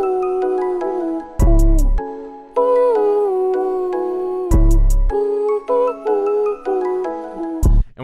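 Flute-like vocal melody run through pitch correction, its notes quantized flat to the scale with no vibrato, stepping cleanly between held pitches, broken by several short loud low thumps.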